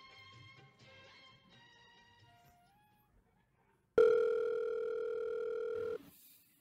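A steady telephone dial tone sounds loudly for about two seconds after some faint background music, then cuts off abruptly.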